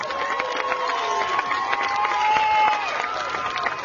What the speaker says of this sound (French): Vous pouvez applaudir encore plus fort,